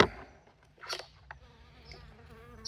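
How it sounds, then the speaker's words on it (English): Angry honeybee buzzing close by at an opened beehive during cleaning, a faint, wavering insect drone with brief louder passes and no talk. "Uh-oh, I got a bee mad at me."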